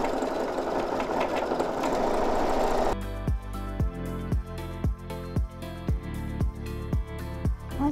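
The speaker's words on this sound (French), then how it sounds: "Je vais donc coudre mes sangles." A sewing machine stitches backpack straps, running in a steady continuous burst at first and then settling into a slower, evenly spaced thumping rhythm of individual stitches, close and fairly loud.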